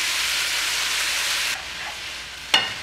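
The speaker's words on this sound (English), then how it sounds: "You can hear that sizzle." Vegetarian noodles pan-frying with a little water in the pan, sending up a strong steady sizzle that drops abruptly to a softer hiss, ending in a sharp clink of a utensil against the pan.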